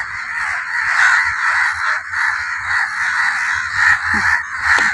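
A crowd of crows caws continuously, harsh overlapping calls rising and falling, loud and close with no pause.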